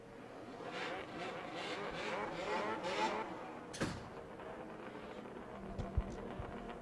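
Vintage pre-1971 snowmobiles race at a power toboggan championship, several engines buzzing and revving past at a distance with a whooshing pass-by swell, then a lower steady drone over faint outdoor crowd ambience.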